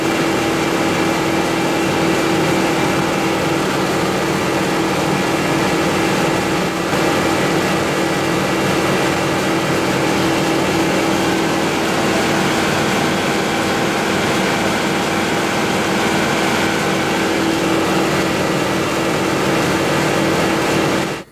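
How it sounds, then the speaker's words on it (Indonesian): N50 rice polishing machine in a rice mill running at full speed, a dense, loud, unbroken mechanical roar and whine that stays steady for about twenty seconds before cutting off abruptly. "Dari beringasnya daya kerja N50 yang digunakan Bos Odon."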